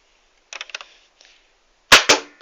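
A Nerf Elite Strike toy blaster fires foam darts, with a few light clicks and snaps followed by two sharp, loud close pops near the end.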